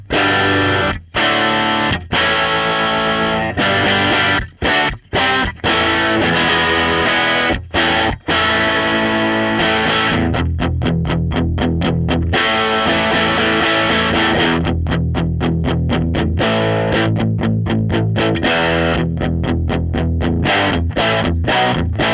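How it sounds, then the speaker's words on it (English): A distorted electric guitar plays live through effects and is picked up by a single Shure SM57 microphone. Dense, loud strummed chords run continuously with brief choppy stops and rhythmic muted gaps. "let's record in some stuff off the guitar"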